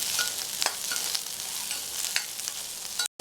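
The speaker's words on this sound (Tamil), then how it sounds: "இப்போது இந்த வெங்காயம் வதங்கிட்டு இருக்கட்டும்" Onions and tamarind sautéing in a pan for chutney, a steady close sizzle with a few sharper stir scrapes, ending abruptly.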